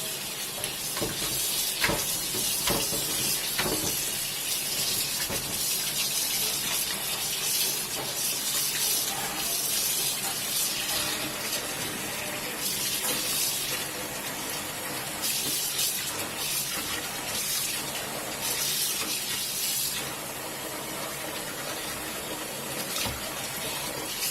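Water runs steadily from a tap for a rinse, a continuous close splashing rush with small fluctuations throughout.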